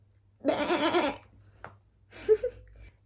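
A voice imitates a goat with a wavering bleat, followed after a pause by a shorter second bleat, close and moderately loud.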